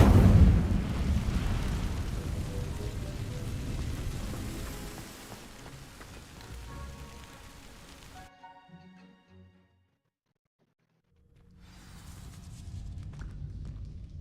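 A fire spell cast in a video game sets dry vines ablaze, with a loud burst and roaring crackle that fades, drops to silence, then returns as a lower rumble.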